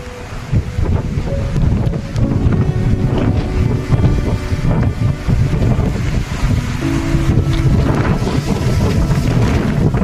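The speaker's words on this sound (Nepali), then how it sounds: "हावाहुरी तुफान आएको छ।" Strong windstorm in Butwal, Nepal, roaring steadily and loudly into the microphone with heavy buffeting gusts and no pauses throughout.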